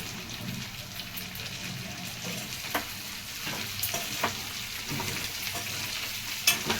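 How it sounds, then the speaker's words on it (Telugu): Green chilies and curry leaves fry in hot oil for chicken fry, a steady close sizzle with scattered stirring clicks of a spoon against the pan. "బాగా ఇక్కడ వేయించుకుందాం ఫ్రై అయిపోయిందండి"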